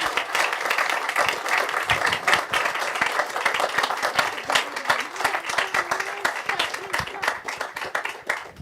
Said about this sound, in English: And let's give them a round of applause if you don't mind.